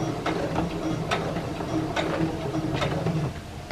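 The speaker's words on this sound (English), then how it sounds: "Now we have to back stitch. So you will be able to close up the end." Sewing machine back stitching the end of a fabric scrunchie, a steady low mechanical whir with soft rhythmic needle taps, fairly quiet and close.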